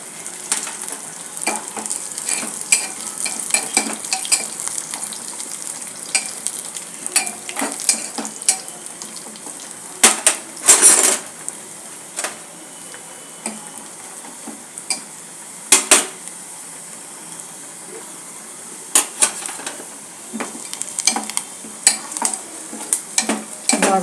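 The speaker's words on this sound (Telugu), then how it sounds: "నెయ్యితో తిరువాత చేస్తున్నాను." Tempering frying in ghee for tomato dal, a steady close crackling sizzle with scattered sharp pops and occasional metallic clinks of a utensil against the pan.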